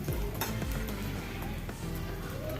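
Kappa pradhaman, a tapioca payasam, stirred in a pot after grated coconut goes in, dense close bubbling and stirring with occasional light clinks of a spoon against the vessel, no speech.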